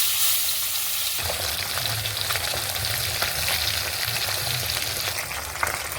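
Pabda fish frying in a pan of oil, a dense, loud, continuous sizzle with crackles that holds steady throughout.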